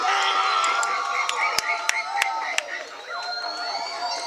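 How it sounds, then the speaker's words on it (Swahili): Church congregation at a Swahili service clapping and ululating, with high trilling cries over a bright wash of crowd cheering and scattered sharp claps, voices shouting throughout. "Pigia makofi makubwa sana."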